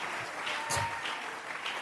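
Brief burst of congregational applause in a church service, steady close clapping from many hands offered as praise.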